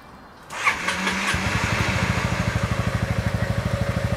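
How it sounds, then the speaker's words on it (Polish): A Piaggio MP3 500 scooter engine cranks and catches, then settles into a steady, even idle with a rapid regular pulse, heard up close with no talking. "Jak słyszycie, silnik pracuje cicho,"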